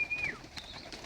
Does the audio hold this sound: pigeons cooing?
yes